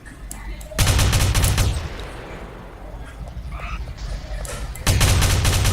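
Two loud bursts of rapid automatic gunfire ring out in a GTA game, separated by a stretch of quieter rumbling ambience.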